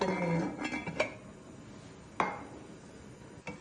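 A metal lid set onto a cooking pot in a home kitchen gives a few faint clinks and knocks, one sharper clank near the middle and another soft tap at the end.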